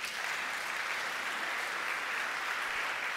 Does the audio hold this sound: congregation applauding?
yes